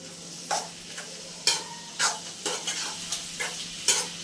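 A spatula stirs and turns a vegetable dish in hot oil seasoned with Gharkul mutton masala and fresh coriander, giving repeated scraping strokes about every half second over a steady sizzle, close and fairly quiet, with no talking.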